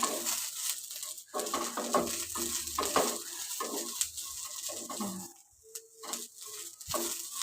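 A vegetable curry of chowlikaayi (cowpea pods) with ground peanut, coriander and garlic fries in a pan, a constant close sizzle broken by stirring scrapes and spoon taps.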